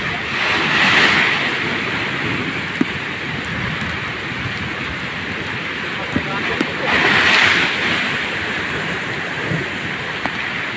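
Ocean waves crashing and washing ashore, a continuous broad surf roar with two louder breaking swells, close and fairly loud, with faint talk under it.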